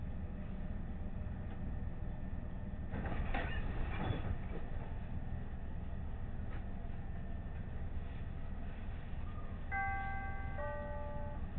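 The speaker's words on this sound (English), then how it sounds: "This is an Orange Line train to Midway." A Chicago Orange Line train running on rails toward Midway, a steady rumbling roll with a cluster of rail clanks partway through and a brief tonal chime near the end.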